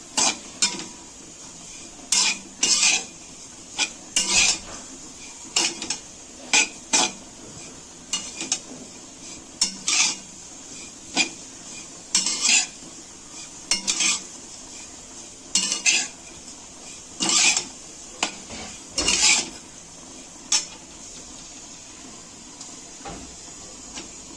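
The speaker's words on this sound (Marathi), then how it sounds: "सर्वप्रथम आपण सुका खोबरा भाजून घेत आहोत" Dry coconut roasting in a pan, with a spoon repeatedly scraping and clinking against the metal in irregular bursts over a quiet background; no speech.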